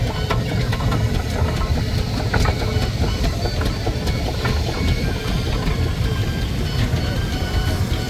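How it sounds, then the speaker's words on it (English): A 1915 steam road roller named White Rose runs during a steam engine parade, giving a steady, loud, low chugging rumble with dense mechanical noise that holds evenly throughout. "Road roller coming through now."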